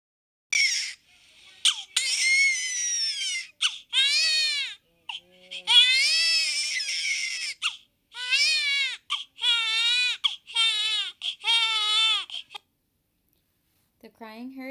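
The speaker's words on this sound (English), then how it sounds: "The crying heard here is an infant born addicted and diagnosed with NAS." A newborn with neonatal abstinence syndrome cries in high-pitched, screeching bursts, repeated wails broken by short gasping pauses, loud and close, with a brief whimper at the end.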